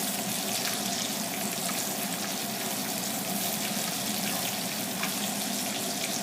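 Green chilies sautéing in a pan while cooking dal, a continuous loud sizzle and hiss with no talking.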